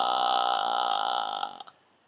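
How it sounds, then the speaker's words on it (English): A singer demonstrates a vocal fry exercise: one close, sustained low creaky voice that rattles steadily for about a second and a half, then breaks up and stops, with no other talk. "The other thing you can do to relax your larynx is to do something called vocal fry."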